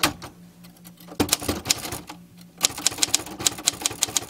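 Typing on a manual typewriter, with bursts of crisp, rapid key strikes in uneven runs separated by brief pauses, close and loud with sharp mechanical clacks and no voices.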